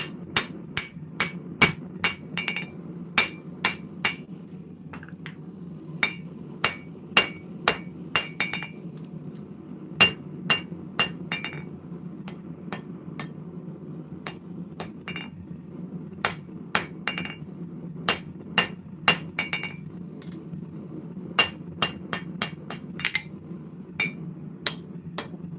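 Repeated blows of an undersized hammer on hot metal: crisp, clinking strikes in irregular bursts and rapid runs, set against a constant low droning hum.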